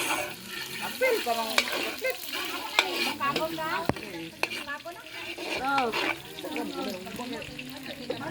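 Garlic and onion sauté in a pan for pancit, with a close sizzle under repeated stirring and scraping of the utensil, and a voice talking over the cooking.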